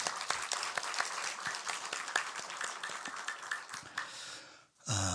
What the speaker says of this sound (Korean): 우리 다시 한번 축복의 박수 할까요?